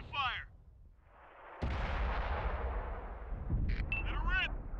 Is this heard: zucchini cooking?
no